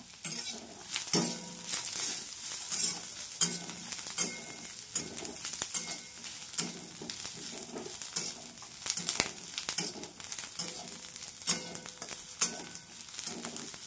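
Dried coconut and onion roasting in a pan for a mung vada masala curry, a steady close sizzle and crackle of frying with occasional stirring scrapes throughout, no voices.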